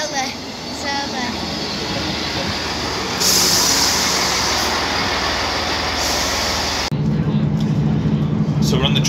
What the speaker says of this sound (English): So we're on the train, literally a 7-minute journey into the interchange.